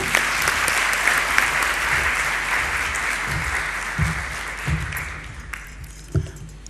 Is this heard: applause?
yes